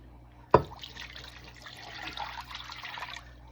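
Four cups of water pour into a bowl of brine made with honey, starting with a sharp splash and continuing as a soft, close liquid trickle and slosh.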